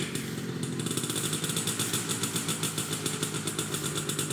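The engine of an old, rickety Toyota Corolla, smoke coming from the back, runs close by with a loud, rough, rhythmic chugging and clatter that pulses steadily throughout.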